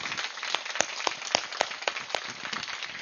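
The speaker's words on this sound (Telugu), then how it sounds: "కొంచెం గట్టిగా చప్పట్లు కొడదాం" An audience applauds at a spiritual gathering, with a fairly quiet, even wash of many hands and a few sharper claps standing out. The sound seems somewhat distant, and no speech is heard.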